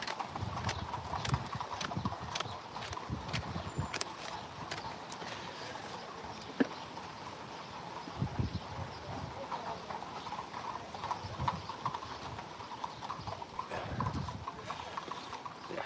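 Horses shift about on their hooves during a farrier visit for routine hoof trimming, with soft, irregular clip-clop steps close by and an occasional snort under quiet background noise.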